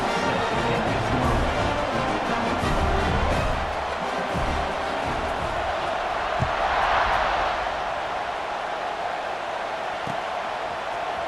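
A TCU college football stadium crowd roars through a kickoff, a steady dense wall of cheering that swells slightly midway and holds loud from start to finish.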